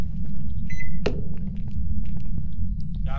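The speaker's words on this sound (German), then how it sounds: "Nee, das ist die Mikrowelle" A microwave oven in the ghost-hunting video game Phasmophobia hums loudly and steadily, with a short electronic beep near the start and a soft clunk, heard close and without speech.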